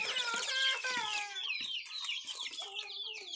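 Chickens clucking close up around a coop as straw is brought in, a dense, continuous jumble of overlapping calls with no talking.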